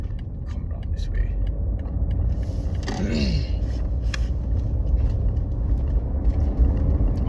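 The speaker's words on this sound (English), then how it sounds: "I don't know why all this traffic is here" Steady road traffic rumbles past in a continuous wash of engine and tyre noise, with a few faint voices murmuring close by.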